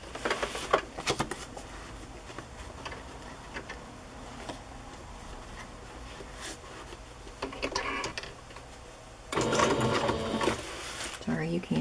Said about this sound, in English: I think I'll just sew a strip of this on.